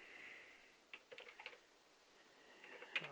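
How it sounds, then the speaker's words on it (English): Someone types on a computer keyboard. Faint, uneven clusters of soft key clicks come in short bursts over a quiet background, with a slightly sharper tap near the end. "I'll just type it out."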